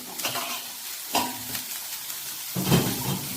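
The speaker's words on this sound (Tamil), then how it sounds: "இப்போ அடுத்தது பாவக்காய் போட்டு நம்ம வதக்கிடுவோம்" Chopped bitter gourd and onions sauté in a hot pan with a steady sizzle. A spoon scrapes and tosses them at intervals, and a louder stirring burst comes near the end.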